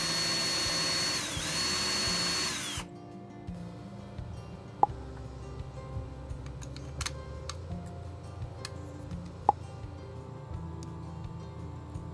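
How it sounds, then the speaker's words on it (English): A power drill pre-drills a screw hole for a DIY solar security camera enclosure, running loud and steady for about three seconds before stopping abruptly, followed by quieter handling noises with a couple of sharp clicks. "Next, I pre-drilled the screw hole to ease the screwing process."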